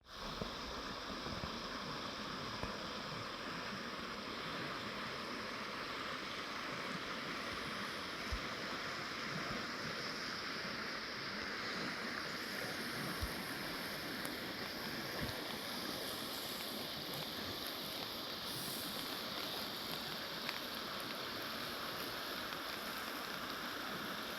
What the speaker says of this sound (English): enjoy the peaceful sound of the water